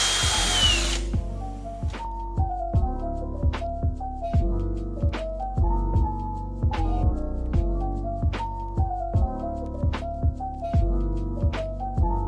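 A power drill bores a hole for an O2 sensor bung in a Mazda Miata exhaust downpipe, with the motor whining steadily and its pitch shifting under load. Sharp bite-like catches recur throughout, close and loud, with no talk.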